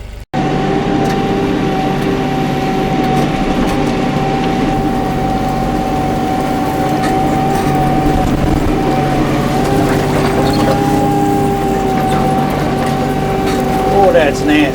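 A tractor engine drones steadily while pushing a fire break through brush in the Missouri Ozarks, a constant nearby hum with a sustained tone and occasional crunching, a voice speaking over it.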